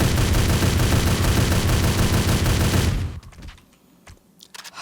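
Loud, dense rapid gunfire from .30-06 weapons in the video game 7 Days To Die pounds continuously for about three seconds, then cuts off abruptly into a quieter stretch with a few scattered clicks and thumps.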